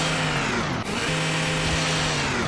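Saw weapon cutting through zombies in Garry's Mod, a loud continuous motorized whine with a steady droning tone and a brief dip near the start, with no talking.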